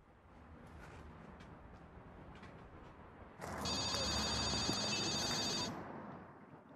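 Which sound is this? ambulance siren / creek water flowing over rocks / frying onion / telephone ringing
telephone ringing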